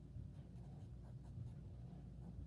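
A math expression being written by hand, a steady faint scratching of a pen or marker that continues without pause under a low background hum.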